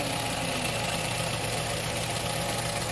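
A Nissan X-Trail T31 engine idles after overheating, a close, loud, steady mechanical hum and rattle that holds unchanged throughout with no other sounds.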